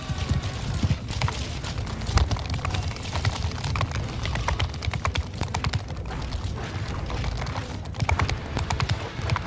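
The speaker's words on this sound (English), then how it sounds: "My horsey's not running very fast for some reason." Horse galloping in the video game Mount and Blade II: Bannerlord, a steady stream of rapid hoof clip-clops running continuously and fairly loud amid busy battle noise, with no talking.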